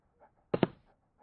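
An elderly dog pants in two quick, close breaths, brief and fairly loud, with faint soft sounds before and after and no talking.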